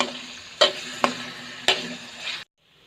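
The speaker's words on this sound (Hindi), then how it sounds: "अब इसको हमने 5 मिनट कुक करना है।" Pizza bun filling with chili sauce cooking in a pan: a steady close sizzle broken by three sharp stirring knocks, ending abruptly.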